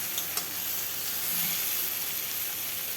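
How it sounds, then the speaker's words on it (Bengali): Brinjal and spices fry in a pan for a chapila fish curry, giving a steady, fairly soft sizzle and hiss with a faint scrape or stir near the start. No one speaks. "বেগুনটাও যেন ভালোভাবে ভাজা হয়।"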